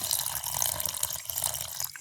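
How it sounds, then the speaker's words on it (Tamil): Warm water poured over dried fish to rinse off sand and grit, a steady splashing pour running continuously and fairly close, with no speech. "மெல்லிய சுடு தண்ணி விடுங்க. அப்போ அந்த மண்கள் எல்லாம் கலண்டுடும்."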